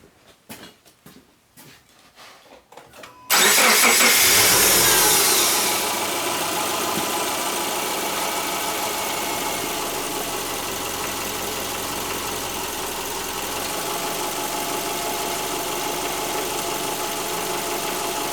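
A 2009 Subaru Forester engine cranks and starts abruptly after a few quiet clicks, then settles into a steady, loud idle that drones on unchanged.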